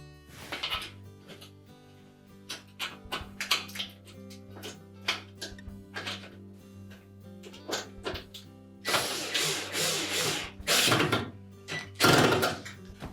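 Fasteners being tightened on a Whirlpool range cooktop during a repair: close, irregular mechanical clicks, taps and rattles of a tool and metal parts, with a few longer grinding bursts near the end and no voices.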